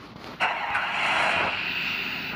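A car engine close by surges up abruptly and then holds a steady, loud broadband roar for a couple of seconds, with no talking.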